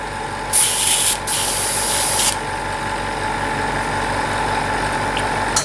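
An airbrush sprays black paint through its nozzle during cleaning, a loud close hiss that cuts in briefly and then runs steadily for about two seconds. A compressor hums continuously underneath the whole time.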